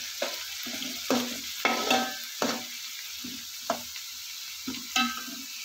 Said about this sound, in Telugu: పచ్చిమిర్చి వేసి కొంచెం సేపు కలుపుకుందాం.